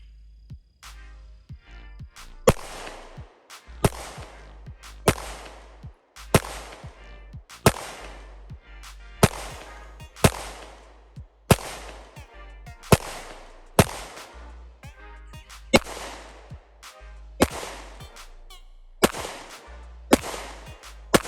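Canik TP9 Elite SC 9mm pistol fired one-handed outdoors, a long string of loud, sharp single shots at an uneven pace with ringing echo after each.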